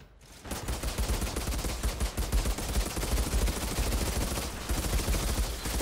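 Gunfire in the video game Outriders: dense, rapid automatic bursts with a brief pause partway through, loud and sustained over several seconds.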